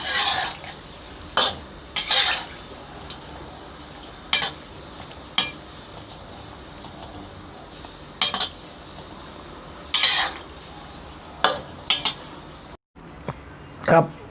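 Khanom khai nok krata, a quail egg snack, fries in oil with a steady soft sizzle. A utensil stirs and clinks against the pan in sharp, irregular knocks spread across the clip.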